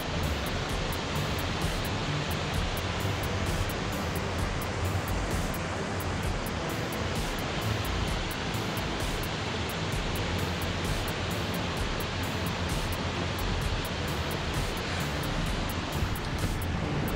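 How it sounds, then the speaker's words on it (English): A big waterfall in Tallulah Gorge, heard from an overlook above, gives a constant, broad roar of rushing water, steady and full throughout with some wind on the microphone and no talking. "that's a big waterfall down there."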